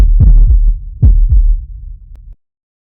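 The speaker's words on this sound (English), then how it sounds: "everyone hearing the heartbeat louder than ever and feeling the heartbeat faster than ever" Deep heartbeat sound effect, loud and close, pulsing in paired thumps, about four beats with a steady rhythm, then cutting off into silence.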